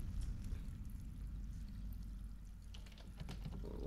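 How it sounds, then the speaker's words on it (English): Toilet flushing in the horror game Layers of Fear, a steady rushing and pouring of water with low gurgling, continuous throughout and fairly close. "You want me to flush the toilet?"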